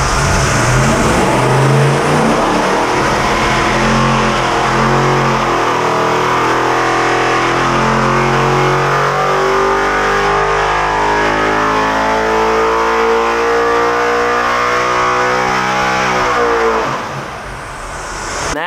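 A loud, close small block Chevy drag engine, a 13-degree SBC build of about 825 horsepower, revs on a dyno, its pitch climbing steadily to around 7,000 RPM before cutting off sharply near the end.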